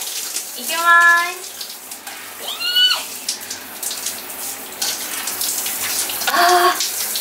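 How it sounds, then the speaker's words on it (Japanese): Cold shower water running in a private sauna room, a steady splashing spray close by, with a woman's brief exclamations over it. "水シャワーしていこうと思います。"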